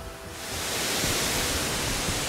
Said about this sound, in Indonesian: Air terjun ini memiliki 3 tingkatan.